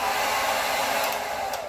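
A blow dryer runs on high heat and high airflow while straightening a beard, giving a loud, steady whooshing roar with slight shifts in pitch throughout.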